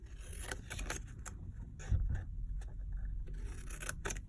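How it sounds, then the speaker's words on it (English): Scissors snipping paper up to a fold line for a Halloween paper craft, several close, quick crisp cuts in small clusters over low background rumble, no speech. "So we're going to snip up to the fold line"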